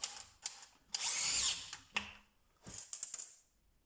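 A DeWalt DCD996N cordless drill drives 50 mm screws into 40 mm wood, giving short bursts of high whining motor, one longer sustained run, and clicks and handling knocks between.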